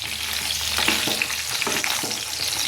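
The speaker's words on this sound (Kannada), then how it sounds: "ಅದು ಎಣ್ಣೆಯಲ್ಲಿ ಒಂದು ಸ್ವಲ್ಪ ಬೇಯಬೇಕದು" Eggplant fries in oil as it is stirred, a dense, steady sizzle and crackle up close with soft scraping from the stirring, no talk.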